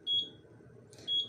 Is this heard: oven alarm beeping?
yes